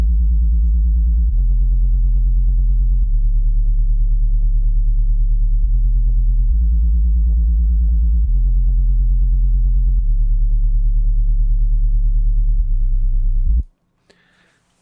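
A deep synth bass line plays steady stepped notes, each throbbing with a fast LFO-filtered wobble, loud and alone before cutting off abruptly.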